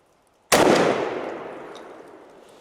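A single loud, close shotgun blast from a Kicks 560-choked turkey gun loaded with TSS number 9 shot at a 40-yard pattern target, a sharp crack followed by a long, slowly fading echo.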